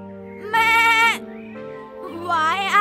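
A goat bleats in a cartoon, two strong, wavering harmonic bleats separated by a short gap, loud and close over a steady background music bed.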